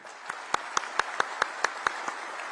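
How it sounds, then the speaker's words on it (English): Brief, sparse clapping from a lecture audience honouring Dr. Jasjit at a memorial lecture, about ten distinct claps, fairly quiet in a small room, fading out. "May I request you all to please give a round of applause to Dr. Jasjit."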